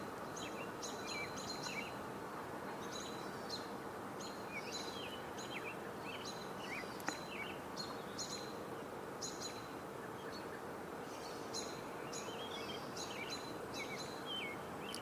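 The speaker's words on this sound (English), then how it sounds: "We hear one or two robins calling alerts, one robin singing, we hear a catbird" Robins give repeated alert calls and song alongside a catbird outdoors on a July day, with faint, scattered chirps over a steady background hum.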